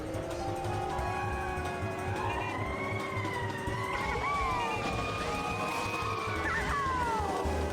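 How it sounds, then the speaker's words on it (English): Several wailing sirens rise and fall together at a distance, steady throughout beneath a constant background rumble, in the video game Mario Kart Wii. "What is that fucking siren that's going off in the background?"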